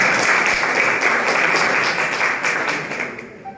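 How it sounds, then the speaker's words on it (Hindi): A crowd at a public gathering claps loudly in a thick continuous burst that gradually thins and fades out near the end, with no talk over it. "पुनः एक बार सभी से जोरदार ताली चाहता हूं"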